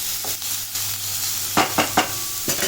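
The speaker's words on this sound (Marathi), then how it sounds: "आता ह्याचं छान आपण तेलात भाजून घेऊया." Chopped onion frying in oil for paneer bhurji, with a soft sizzle broken by a few close scraping stirs from a spoon in the pan.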